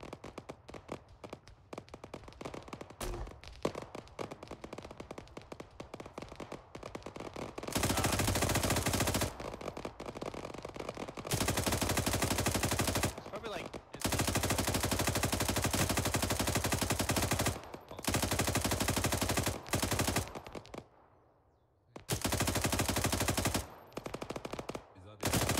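Arma 3 combat produces sustained automatic gunfire in long, loud bursts with brief pauses. Sharp, scattered single shots come first, and the firing then grows into dense, continuous volleys.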